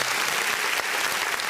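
A small group of people giving a round of applause, brief, steady clapping heard close up with no speech over it.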